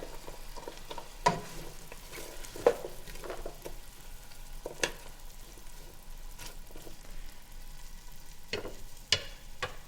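Cold celery and green onions sizzling and frying in a pan for beef stew, a steady close crackle with occasional sharp scrapes of stirring and no talk.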